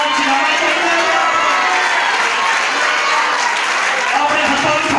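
A church congregation claps and cheers in a dense, continuous wash of applause filling the room, with voices mixed into the crowd noise.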